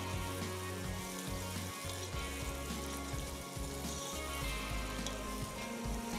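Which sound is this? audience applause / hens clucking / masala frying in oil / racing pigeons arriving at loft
masala frying in oil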